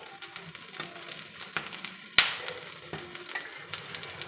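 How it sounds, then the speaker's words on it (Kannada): A bread omelette frying in a pan gives a quiet, steady sizzle with a few soft scrapes and one sharp clink midway, close by and without voices. "ಸೊ ಗೋಲ್ಡನ್ ಕಲರ್ ಬರೋವರೆಗೂ ಇದನ್ನು ಚೆನ್ನಾಗಿ ಫ್ರೈ ಮಾಡ್ಕೋಬೇಕು"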